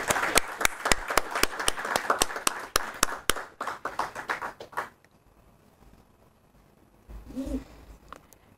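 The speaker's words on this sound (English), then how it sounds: "A round of applause, please" A few people applaud at a lecture hall event, sparse, sharp individual claps ringing out close by for several seconds before dying away into near silence, followed by a brief low murmur.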